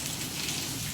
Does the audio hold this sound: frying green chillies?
no